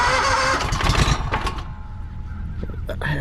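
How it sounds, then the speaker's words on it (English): A small gasoline trenching machine engine catches on half choke, a loud ragged rumble that quickly drops to a rough idle with irregular sputtering and a voice briefly speaking over it. "Let's see how this little guy starts up this morning. Give it a little turkey choke."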